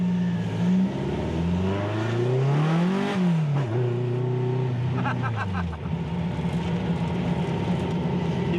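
A Volkswagen fitted with an EMPI 3-inch exhaust tip, engine droning loudly and rising in pitch through the gears before dropping back to a steady cruise, heard from inside the car with no voices.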